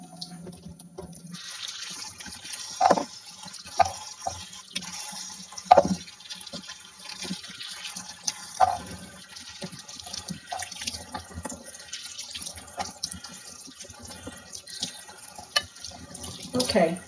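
Running tap water over cranberries being washed in a sink, a continuous soft splashing stream with occasional louder knocks and drips from handling, close by.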